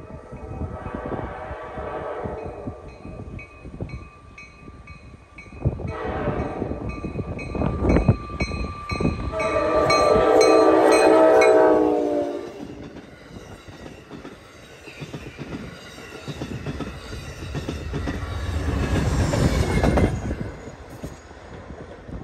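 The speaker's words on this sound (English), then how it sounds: "And as we watch P42 DC 123 go past the crossing" An Amtrak train led by a P42DC locomotive passes a grade crossing, loud and close, with rumbling wheels, clickety-clack over rail joints and squealing wheels swelling and fading over about twenty seconds.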